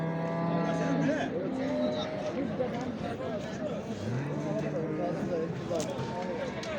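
Cattle low and moo repeatedly among a busy crowd at the Çorum livestock market, with people talking loudly nearby throughout.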